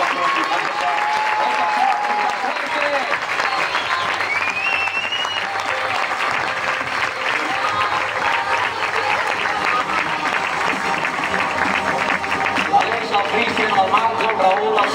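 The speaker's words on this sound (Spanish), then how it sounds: "Doncs aquest aplaudiment és per tu, pel teu company." An audience at a youth football club's season presentation gives sustained applause for a coach, dense clapping running steadily throughout with a few scattered voices mixed in.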